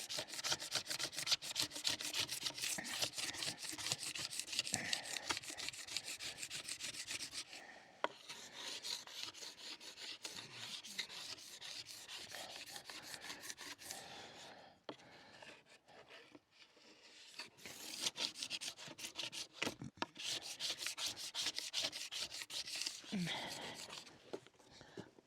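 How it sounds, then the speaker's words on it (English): A sharp scraper rasps wax off a snowboard base in long repeated strokes, steady and close. Someone speaks at points over the scraping. "Sharp scrapers are good. So you just want to get all of the wax off."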